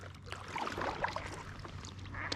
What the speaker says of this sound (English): I don't know if you guys can hear all those birds